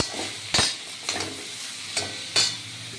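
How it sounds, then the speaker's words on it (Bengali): Mango pieces for achar frying in a pan: a soft continuous sizzle broken by a few sharp spoon scrapes and stirs. "আমটা ভেজে নেব দেখুন"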